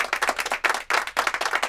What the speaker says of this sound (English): Claps for your mom.